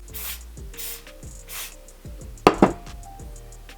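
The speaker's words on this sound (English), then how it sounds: "And this is with no gel, just spray." A few short hissing bursts of hair spray at a steady pace, followed by a faint knock, with soft music playing underneath.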